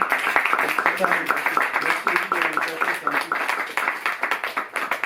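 Audience applause at a Paris bookshop meeting with filmmakers, a dense patter of hand clapping that runs throughout at moderate loudness, with voices and cheers mixed in.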